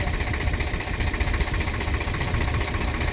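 An Eicher tractor engine runs close by, a steady loud diesel chugging and knocking rumble with no pauses.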